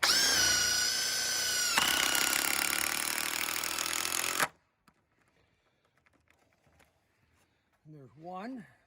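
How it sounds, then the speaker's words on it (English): Power drill or driver winding screws back into a sturdy wooden fence post, a loud continuous motor whine with a pitch change partway, then cutting off to near silence with a faint voice briefly at the end. "So now what I'm going to do is wind the screws back in."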